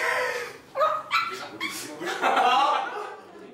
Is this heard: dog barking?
yes